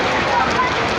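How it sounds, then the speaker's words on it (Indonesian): Rain falls steadily on surfaces in an open town square in Subang, West Java, a dense, even patter close by for a brief moment. "Ini baru hujan."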